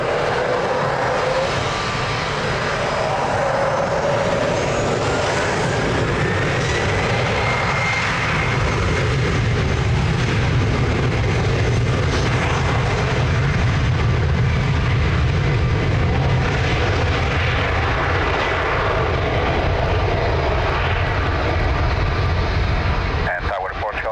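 A Portugal-registered airliner taking off from runway 02 at Lisbon Airport, engines at full power in a loud, unbroken roar with a faint rising whine, sustained throughout, with speech faintly present under it.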